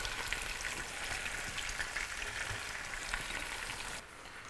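Potatoes frying in a multifunction cooker give a dense, steady sizzle and crackle that holds evenly, then drops noticeably quieter near the end, with no talking.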